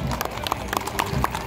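Cavalry horses parading along a seaside avenue during a Brazilian Independence Day procession, hooves clip-clopping in a steady, moderately close rhythm over a continuous crowd and street murmur.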